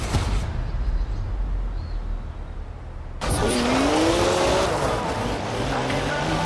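A BMW 1M in Forza Horizon 4 cuts in suddenly with loud engine roar and a rising tire squeal after a quieter opening stretch of low rumble.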